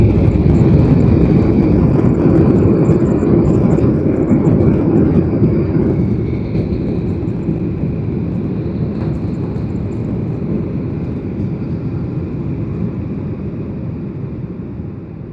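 Airliner landing at Abu Dhabi airport, heard from inside the cabin as a loud, sustained roar of engines and rushing air while braking on the runway, slowly easing in level across the stretch, with no talk.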